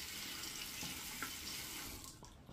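A safety razor is rinsed under a running tap, a steady close hiss of water splashing into a sink that tapers off at the end.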